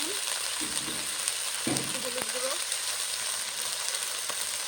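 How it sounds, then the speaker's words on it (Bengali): Leafy greens, spinach-type shak, frying in a pan for a Bengali dal and greens dish, with a steady soft sizzle. A voice speaks briefly over it along with a few light stirring clinks. "ভালো করে ভেজে নেবো"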